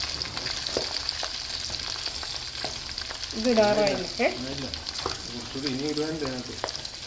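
Pork pieces frying in a clay pot over a wood-fired stove, a steady close sizzle with stirring clatter throughout while people talk over it in the middle.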